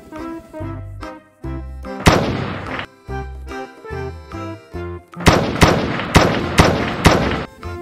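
Sharp toy pistol shots crack repeatedly over a looping electronic tune, first spaced out, then a quick series of bangs near the end.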